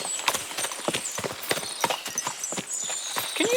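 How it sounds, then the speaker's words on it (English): Many horses clip-clop in the game Kingdom Come: Deliverance II. Hooves strike in a busy, uneven patter of sharp hits, fairly close, with faint background tones and no speech. "What a lot of horses! They must have cost a fortune."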